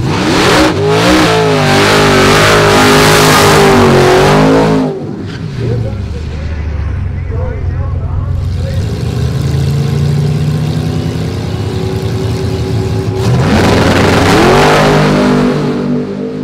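Drag racing car thunders down the strip with a loud roaring, revving engine, fading and dropping to a lower rumble as it slows, then roaring up again near the end; a commentator talks over parts of it.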